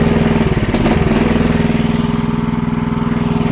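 A cheap Chinese mini skid steer's small engine starts up close by, with a brief uneven burst early on before it settles into a loud, steady, throbbing idle that runs without any talk.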